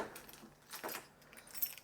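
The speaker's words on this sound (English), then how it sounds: "Let me get my keys." A small bunch of keys jingles in a few short, faint metallic bursts, with quiet pauses between shakes, heard close up in an otherwise still space.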